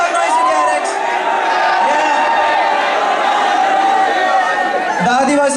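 A student crowd at the KJSCE college roast event yells and cheers in a dense, continuous roar of overlapping voices that holds steady throughout.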